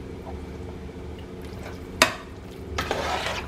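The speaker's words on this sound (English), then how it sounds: "Get that all mixed up." Two jars of Alfredo sauce stirred in a pot on a low stovetop, with soft scraping and wet swishing, one sharp clink of the utensil against the pot, then a longer thick, slurping stir.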